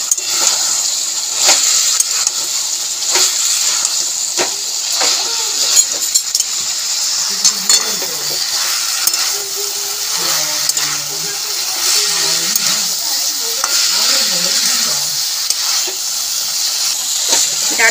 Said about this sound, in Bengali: সব কিছু মিলিয়ে নিলাম, নাড়িয়ে ছাড়িয়ে